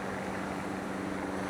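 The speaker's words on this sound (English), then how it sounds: "I hear a plane. Oh, he's coming right over us." A plane flies overhead on California's north coast, a steady broad engine drone that fills the short moment without pause. No one talks over it.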